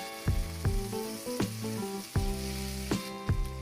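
Pieces of fried chicken are stir-fried with tomato, onion, ginger and garlic for Chinese fried rice, sizzling steadily up close as a spatula scrapes and knocks against the pan in an uneven rhythm.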